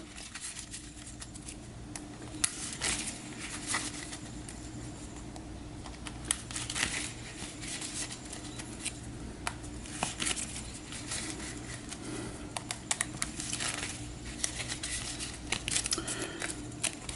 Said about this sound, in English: Give this a shuffle.